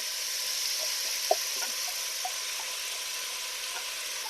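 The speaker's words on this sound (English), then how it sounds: "I'm going to fry up the onions and celery" Onions, celery and garlic fry in a soup pot with a steady, soft sizzle, a few faint pops and light stirring taps breaking the even hiss.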